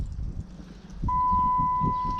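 A Dodge Charger SRT's dashboard sounds a single steady electronic beep tone while a tuner rewrites the tune, the beep starting halfway through and holding over low cabin rumble.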